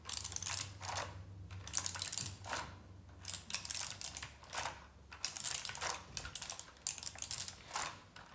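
Someone presses keys on a gamer keyboard in repeated clusters, quick rattling bursts of close, light clicks separated by short pauses, with no voices heard.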